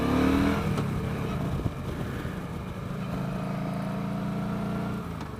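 A 2015 Star V Star 1300 Deluxe motorcycle engine, low in compression, strains at full throttle around 45 mph, a loud, steady, buzzing drone with wind rush and no speech.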